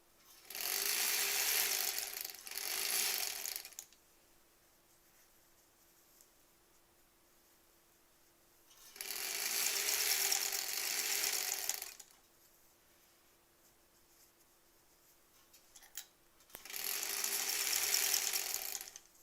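A sewing machine stitches a granny square quilt in three steady bursts of rapid mechanical whirring, each lasting a few seconds, separated by quiet pauses.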